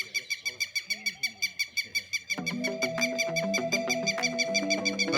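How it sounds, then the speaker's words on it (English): A bird calls in the morning with a steady run of short, evenly spaced notes. Partway through, a sustained tonal layer joins and the rhythmic calls carry on beneath it at a moderate, close level. "This bird has got a lot to say this morning."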